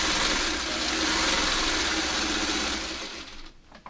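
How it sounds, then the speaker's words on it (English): A sewing machine runs steadily, stitching the outer border of a queen-size quilt, a continuous moderate mechanical whir that slows and stops near the end, with no talking. "I keep losing my foot pedal to sew with"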